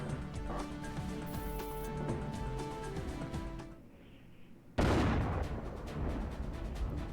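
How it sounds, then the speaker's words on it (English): A sudden heavy blast erupts from the Front Mission 4 video game after a stretch of rumbling battle noise and a brief lull, loud and close, with a long noisy roar trailing after it. "And a bonus explosion."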